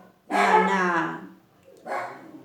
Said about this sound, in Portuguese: meus cachorros começaram a latir agora